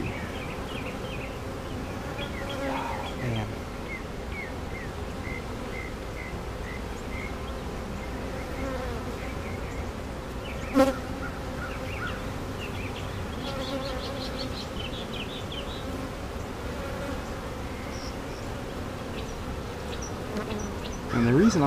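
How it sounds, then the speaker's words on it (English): Honeybees buzz around an open hive during a beekeeping inspection, a steady close swarm hum with brief louder passes near the microphone, continuing throughout without talk. "Seeing more bees with pollen on them"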